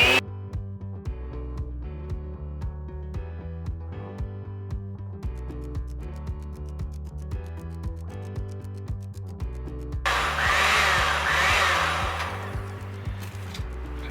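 Stand mixer whirring while beating shortcake batter, a steady motorized hum with regular rhythmic pulses, joined near the end by a louder scraping, hissing burst.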